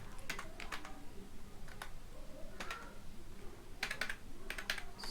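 A computer keyboard clicks as CSS code for a React component is typed: faint, uneven clusters of keystrokes over a low steady room hum, with no speech.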